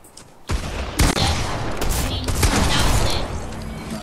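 Gunfire in Fortnite Zero Build: a short, loud flurry of rapid shots and mechanical clatter starts abruptly and keeps going, with a faint voice underneath.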